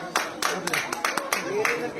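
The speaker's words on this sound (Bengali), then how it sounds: "হাততালি" A small group at a bottle-standing game claps in sharp, irregular bursts, close and fairly loud, with voices talking over the applause.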